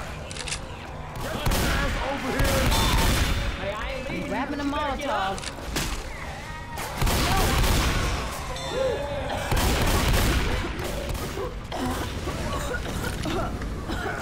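Rapid gunfire in Left 4 Dead 2 as players shoot at the Tank, with dense overlapping bursts and crashes that swell and ease across the span while voices talk throughout.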